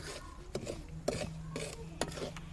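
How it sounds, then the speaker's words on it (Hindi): A spoon stirs semolina in a pan over low heat for suji halwa, giving soft scraping and rasping strokes in an irregular rhythm with a few sharper knocks against the metal, close up and fairly quiet. "चम्मच मुसलसल हिलाते रहना है ताकि सूजी जले ना।"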